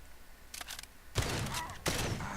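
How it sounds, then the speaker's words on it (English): Enemy shotgun fire in the video game Far Cry 2, with two heavy blasts roughly a second apart, each followed by a rumbling tail, after a brief softer crackle. "These guys have absolutely astonishing accuracy with a shotgun at a distance."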